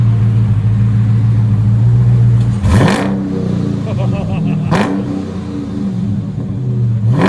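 A Dodge Charger Scat Pack with a 6.4L HEMI V8 and aftermarket exhaust idles with a deep, loud burble, then rips through two sharp revs that rise and fall back to idle, close by.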